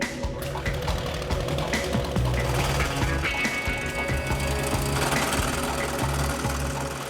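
A small engine mounted on the lily pad flyer, a makeshift flying contraption, runs with a loud, steady, rattling buzz that continues without a break throughout, with no talking.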